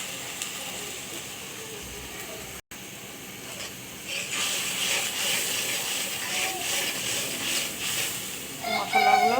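Ginger, garlic, turmeric, ground cumin, chili powder and salt sizzle in a pan for a surma fish curry, a steady hissing fry that grows louder and busier partway through, heard close up.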